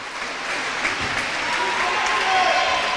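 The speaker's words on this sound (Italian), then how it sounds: "Applausi per tutti, per le giocatrici che terminano la loro stagione." Applause fills an arena after a women's Serie A2 basketball game between San Salvatore Selargius and Medoc Forlì, a dense, even wash of clapping that swells slightly toward the end.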